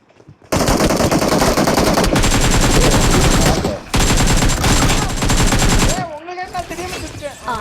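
Rapid automatic gunfire from a video game rattles loudly in long sustained bursts with brief gaps, followed by a voice talking over quieter game sound at the end.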